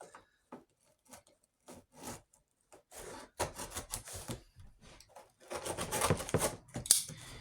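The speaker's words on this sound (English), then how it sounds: "I'm just going to cut down these edges, all four sides, in order to create flaps to be able to tape them up." A blade slices down the edges of a cardboard box to make flaps, giving a series of scraping, rasping cuts that start sparse and quiet, then grow denser and louder.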